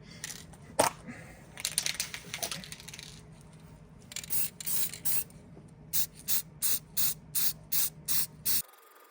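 Aerosol can of Tough Stuff satin black paint spraying master cylinder parts, in repeated short hissing bursts with a steady rhythm, close and fairly loud, with some clinks and handling noises between sprays.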